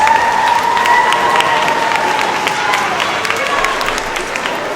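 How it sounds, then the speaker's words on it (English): Parents and students at an elementary school award ceremony give a big round of applause, steady loud clapping and crowd noise filling the room continuously throughout, with a faint background voice. "let's give everybody our respect and a big round of applause"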